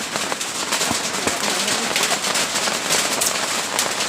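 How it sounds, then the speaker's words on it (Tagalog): Steady rain hisses and patters on a surface, continuous and fairly loud, with scattered sharper drops throughout. "Ulan na yan."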